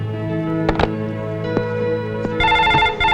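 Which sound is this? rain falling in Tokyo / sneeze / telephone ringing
telephone ringing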